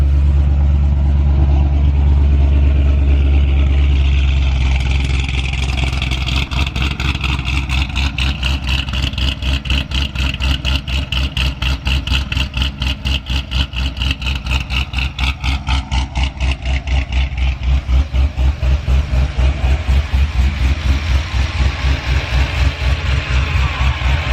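Modified 900+ wheel-horsepower Corvette ZR1 on 93 octane with exhaust cutouts open, idling loud and close, then revving in fast rhythmic pulses that build and hold steady, with no talk over it.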